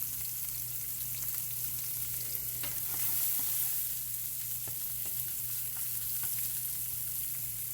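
Pieces of onion sauté in a wok, a steady close sizzle with occasional scraping stir sounds over a constant low hum, no voices.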